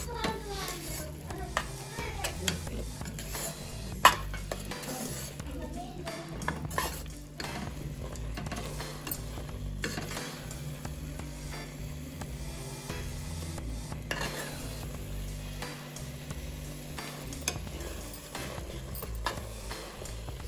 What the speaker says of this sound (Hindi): अब डालेंगे हम इसमें ये घी लिया है हमने, इसको चलाते हुए मिला लेना है इसमें हमें।